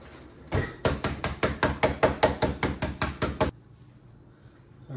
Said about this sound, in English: I do have a hammer.